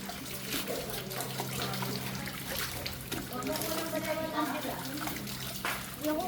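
Water runs and splashes steadily as a basin is refilled during hair rinsing, a continuous close pouring that varies slightly in strength. Voices talk faintly underneath.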